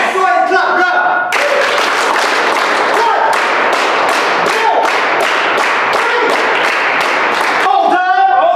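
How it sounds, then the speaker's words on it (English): Audience at a student leadership talk claps loudly and steadily in a dense, continuous burst lasting several seconds, with crowd voices heard at the start and end. "Go ahead and clap, go."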